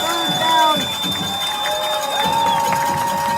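Rowdy stands at a Cocoa Tigers at Merritt Island Mustangs high school football game on third down: a loud murmur of shouting and cheering, pierced by shrill whistling, with scattered claps and nearby voices.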